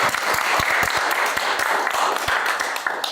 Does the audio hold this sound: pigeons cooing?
no